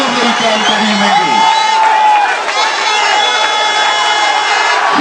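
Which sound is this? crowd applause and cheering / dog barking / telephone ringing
crowd applause and cheering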